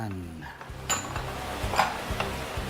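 Flour and cornstarch being mixed in a bowl, with a few soft clinks and scrapes of utensil against the bowl under quiet room tone and brief murmured talk.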